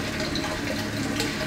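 Ink and water squirted back into a container and stirred during a test of RV water filters, a steady close watery sloshing and trickling with no talk.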